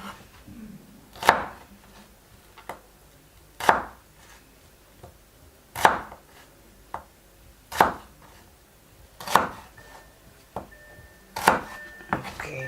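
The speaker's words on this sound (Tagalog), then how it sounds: "Cut onion." Knife chopping onion on a cutting board: slow, steady single cuts, about six firm thunks spaced around two seconds apart with faint lighter taps between, close and clear with no speech.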